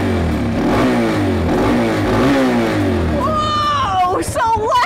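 A motorcycle engine revs as the throttle is twisted, a close, loud rising and falling roar in repeated surges, with a voice exclaiming over it near the end.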